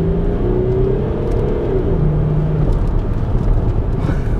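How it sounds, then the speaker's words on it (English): A 2006 Audi A6 Avant with 215,000 miles, gearbox in sport mode, pulls hard in second gear; a muffled, steady engine drone heard from inside the cabin rises gently in pitch under a broad road rumble, with no voices. "Let's just give this car a bit of an acceleration and see what it's like."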